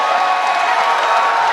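A college wrestling crowd in Raleigh at an NC State versus Pittsburgh dual meet roars in a steady, loud, sustained cheer filling the arena.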